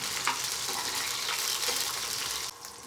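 Split green chilies frying in hot oil until browned, a close, even sizzle with faint stirring that cuts down abruptly near the end, no voices.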